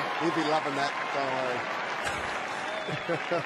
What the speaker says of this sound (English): That applause is for Kennedy, who's jogging back